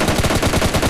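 A short, loud, rapid burst of automatic gunfire from the PUBG Lite video game, evenly spaced shots rattling continuously for under a second.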